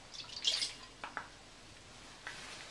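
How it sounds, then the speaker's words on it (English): Water is poured into a mixing bowl at the start of making roti prata dough, heard as a brief, close splashing trickle followed by a few faint drips and a quiet background. "First we're going to start off by putting our water in a mixing bowl."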